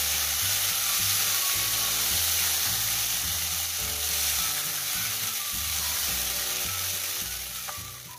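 Roti jala batter sizzling in a lightly oiled old wok for durian pengat, a steady close frying hiss with faint scraping and rhythmic low thumps underneath, no voices.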